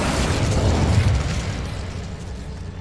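Incendio fire spell cast in Hogwarts Legacy, a single burst of fiery whooshing explosion that swells and then fades out over a few seconds, loud and alone.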